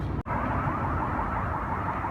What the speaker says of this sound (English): sounds like car alarms going off